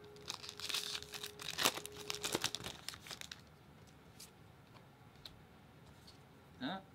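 Crinkling and tearing of a foil Magic: The Gathering Kaladesh booster pack being opened, loud rustling bursts for the first few seconds, then quieter handling with a final crackle near the end.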